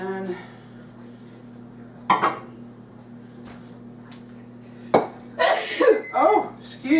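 A single sharp sneeze bursts out mid-clip amid quiet kitchen sounds, followed by brief voices and light clinks of dishes.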